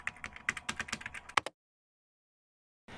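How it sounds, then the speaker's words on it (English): Fingers type on a computer keyboard in a rapid burst of crisp, close clicks that lasts about a second and a half, followed by silence. "So we can start by typing weight loss here in the search."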